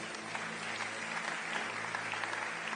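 Church congregation applauding together in a steady, dense wash of clapping that carries on without a break, with no voices rising above it.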